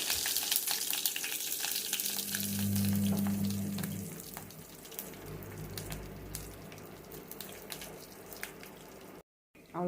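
Mustard seeds, asafoetida and curry leaves crackle in hot oil, a fairly faint sizzle with scattered pops and clicks, a low hum rising and falling underneath, ending in a brief silence.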